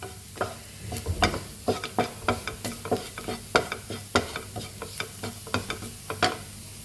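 Chili powder frying in hot oil in a pan for a Kerala long-bean stir-fry: a steady close sizzle broken by about a dozen rhythmic spatula scrapes and stirring knocks.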